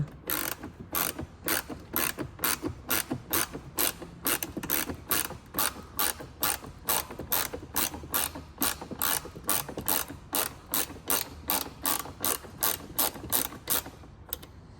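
A ratchet wrench fitted with a 10 mm socket clicks rapidly and close by while working on a 2023 Lincoln Navigator, sharp repeated ratcheting bursts in a steady back-and-forth rhythm lasting throughout.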